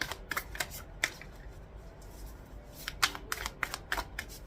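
Tarot cards being drawn and handled, with quick bursts of shuffling and card flicks in two clusters separated by a quieter pause, close and moderately loud with no speech.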